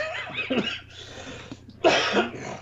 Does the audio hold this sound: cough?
yes